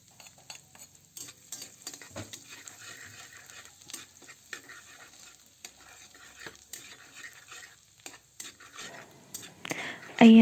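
Minced garlic sizzles gently in melted butter in a pan, a soft steady frying hiss under intermittent stirring scrapes and utensil taps, with a sharper clatter at the end.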